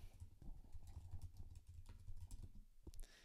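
Computer keyboard typing as a business name is entered into a scheduling app setup, a quiet run of quick, uneven key clicks close by with no talking.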